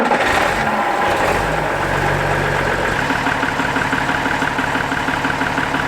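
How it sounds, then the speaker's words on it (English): A Unimog, a tractor-truck hybrid, idles steadily in a German forest, its engine a close, constant low rumble that starts with a brief rise and runs on alone without talk. "It's a mix of tractor and truck."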